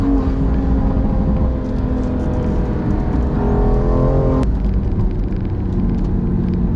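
A BMW M2 Competition with its S55 engine, tuned with Pure Turbos Stage 2+ to about 700 wheel horsepower, roars under load as a deep, steady, loud rumble that builds and then drops sharply, heard up close with no talking.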